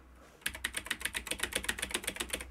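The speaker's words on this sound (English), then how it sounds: "it's hearing my voice, but it's not hearing the whole typing" Fast, crisp keyboard typing starts after a brief quiet moment, a rapid run of clicking keystrokes close by.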